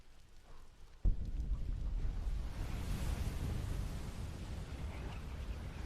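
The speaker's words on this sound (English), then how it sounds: "That sounded like an explosion in the distance." A distant explosion lands as a sudden low boom, then rolls on into a long, deep rumble that slowly fades.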